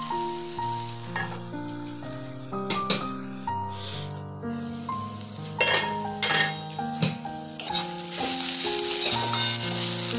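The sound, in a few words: chana saag (greens) frying in a pan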